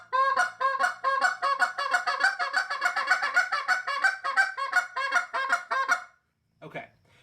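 A goose call blown in the hiccup rhythm gives a rapid, loud series of about two dozen honking notes for six seconds, then one short note after a brief gap.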